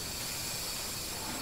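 Steam hisses steadily in the horror game SOMA, a faint, continuous broadband rush with no voices over it.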